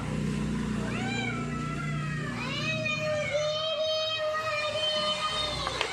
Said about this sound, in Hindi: तो म्याऊं करती रहती हो